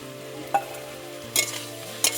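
Shrimp and taro leaf curry being stirred after water is added, with a faint continuous hum broken by three short, close scraping stirs of a spoon against the pan.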